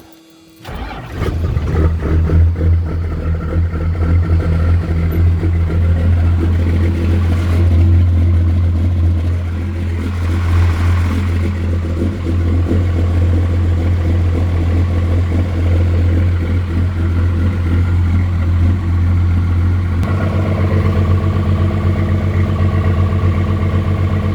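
A 1990 Dodge W250 pickup truck engine cranks, catches and settles into a steady, loud idle nearby, with a brief throttle rise partway through and a continuous low drone.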